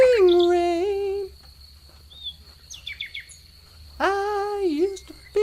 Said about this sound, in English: Just hanging out with my chicks, my birds.